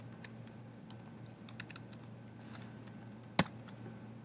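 Quiet keystrokes on a computer keyboard tap out irregularly in a hushed room, with one sharper, louder click near the end.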